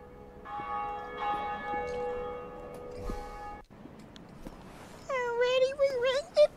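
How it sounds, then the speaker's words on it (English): In Dark Souls, a bell rings out in a sustained resonant tone that fades over several seconds, and then voices and a meow-like cry take over. "Already we rang the bell"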